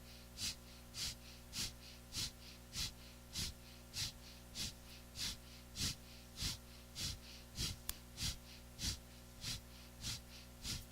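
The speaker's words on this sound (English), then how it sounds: "the breath is a steady exhale through the nose" Steady breathing with exhales pushed through the nose during a kriya practice, about seventeen evenly spaced, close, forceful nasal breaths in a regular rhythm over a constant low hum.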